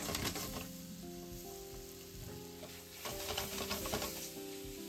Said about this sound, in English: I stir-fry it for 1 minute.